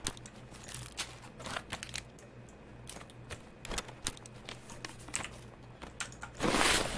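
Backpack being taken off in Escape from Tarkov, a run of crinkly rustling and crunching handling noises that builds to a loud burst of fabric rustle near the end.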